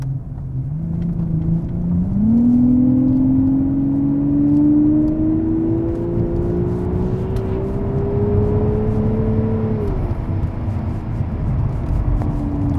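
A big naturally aspirated V12 car engine revs up smoothly, its pitch climbing steadily for several seconds before easing off, heard close and loud without any talking.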